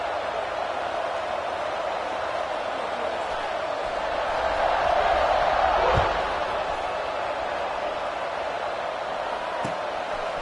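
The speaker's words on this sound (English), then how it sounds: "this crowd is buzzing after that last score" A stadium crowd at an American football game buzzes steadily after a touchdown, a broad far-off roar swelling briefly midway, with a thud or two, under and between commentary.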